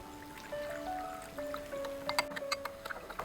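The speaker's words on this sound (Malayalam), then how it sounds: "കുറച്ച് വെള്ളം ഒഴിച്ച് കൊടുക്കുന്നുണ്ട്" Water trickles and splashes in a thin stream into a Kozhikode halwa mixture, with a rising tone as the container fills and light clinks near the end.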